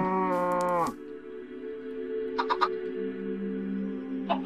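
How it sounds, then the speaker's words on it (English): Minecraft cows on a game farm let out a long, loud, rising moo near the start, then a lower sustained drone of more mooing with faint game clicks over it. "Now we'll come over here and breed some cows."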